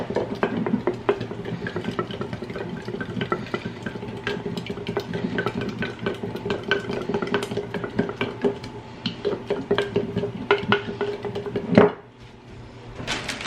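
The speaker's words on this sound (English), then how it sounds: "I'm going to stir this up" A spoon stirring buttermilk dressing in a bowl, rapid scraping and clinking taps repeating close by, alone without talk, ending in a sharper knock before quieting.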